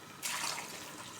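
Two cups of water pour over peeled, cut sweet potatoes, a sudden splashing gush that starts sharply and continues as a steady close pour.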